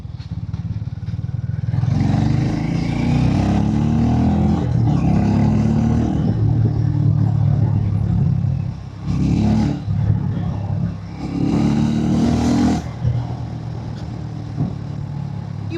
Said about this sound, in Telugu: ఆ పాప్స్ వస్తున్నాయి కదా నేను థ్రాటిల్ వదిలేసినప్పుడు.